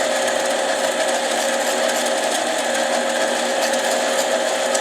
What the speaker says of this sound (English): Feed it nice and slow on this little lathe.